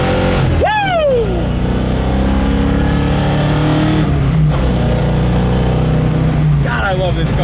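A 1967 Ford Mustang Fastback restomod drives past and accelerates, its engine note rising sharply in a loud revving sweep, then settling into a steady rumble before revving again near the end.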